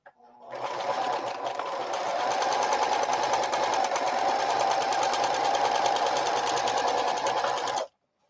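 A sewing machine stitches straight across the seam of a tote bag, a steady rapid whirring that starts up, runs evenly for several seconds, then stops abruptly.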